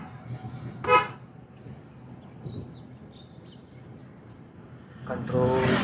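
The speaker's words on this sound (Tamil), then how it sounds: "ஹாரன் கண்டிப்பாக." A car horn honks twice while driving, once briefly near the start and again in a longer blast at the end, over soft road rumble.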